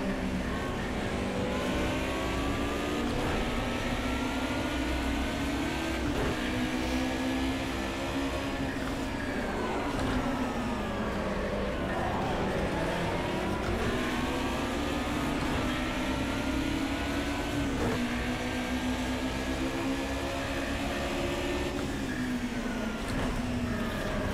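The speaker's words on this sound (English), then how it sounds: "I think that's a Cosworth in front of us right now." Race car engines in Project CARS 2, a Cosworth-powered car running just ahead, roar steadily and loudly throughout with rising and falling revs and gear changes, and no talking.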